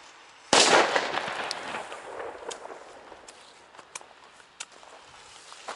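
A Funke Super Böller 2 firecracker goes off with one sharp, loud bang at New Year's Eve, followed by a decaying echo and several fainter distant pops.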